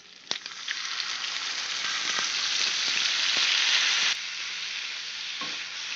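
A mixture of tomato paste, ground cumin, ginger, coriander and chilli powder sizzles loudly in a hot frying pan, a steady hissing fry that swells then drops suddenly, with occasional stirring scrapes and no talking.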